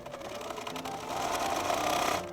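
A sewing machine runs a quarter-inch seam along a raw fabric edge, a close, continuous rapid whir that builds slightly before stopping.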